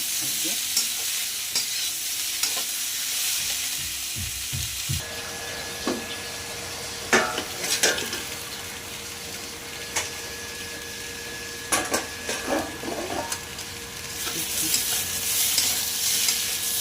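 Onions frying in a pan until soft, with a continuous close sizzle and repeated scraping stirs and clatters of a spatula against the pan.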